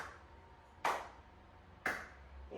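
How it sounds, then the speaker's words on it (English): Hands clapping during a seated range-of-motion exercise class for Parkinson's, two crisp, fairly close claps about one second apart over a quiet room. "So as we rotate, we're clapping."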